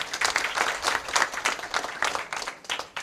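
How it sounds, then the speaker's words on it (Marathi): An audience at an akhand harinam saptah religious gathering breaks into hearty applause, dense clapping in rhythmic bursts that carries on steadily for about three seconds, close and fairly loud. "त्यांच्यासाठी एकदा जोरदार टाळी वाजवा"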